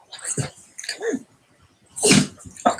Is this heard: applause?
no